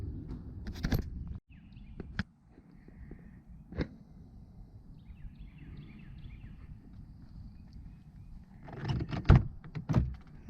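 Doors of a 2019 Jeep Wrangler Rubicon JLU open with a few sharp clicks and thunks of latches, scattered across the stretch, with a louder cluster of clunks near the end over a quiet background.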